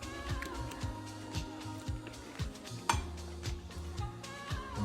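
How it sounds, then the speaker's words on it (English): A spoon stirs Portuguese caldo verde soup in a pot, scraping and clinking against the metal in quick, irregular strokes, close and fairly quiet, with no talk. "Give it a little stir."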